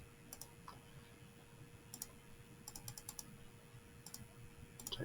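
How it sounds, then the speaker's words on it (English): Fingers tap numbers into a calculator keypad in quick, light clicks that come in small bursts with short pauses between them, close and fairly quiet, with no talking. "Type in your numbers, make sure that you type them in right."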